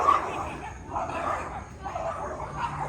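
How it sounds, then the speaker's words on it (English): A small dog barks and yips near a house under construction on a rainy day, with a few short barks mixed with whimpering at moderate distance. "You little dog, go away."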